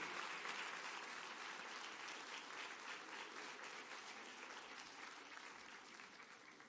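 An audience at an African science festival closing ceremony applauds an award winner, a faint, even wash of many hands clapping that slowly tapers off without any talking.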